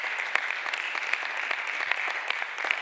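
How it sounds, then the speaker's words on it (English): An audience at a church pastoral forum applauds, a dense, even patter of many hands clapping with a few sharper claps standing out, sustained throughout. "Can we all give them a round of applause?"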